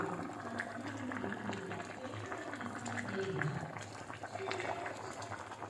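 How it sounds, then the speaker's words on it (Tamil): A pan of thick chicken chukka bubbles and simmers continuously, soft popping and gurgling close by, with quiet background sounds throughout. "சுக்கா எப்படி கொதிக்குன்னு பாருங்கள்."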